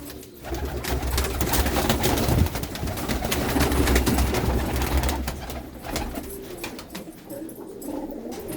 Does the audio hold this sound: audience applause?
no